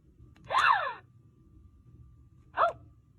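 A Trolls doll toy lets out two short synthetic gasping sounds, the first longer with a sweeping pitch, the second brief, each standing alone against quiet background.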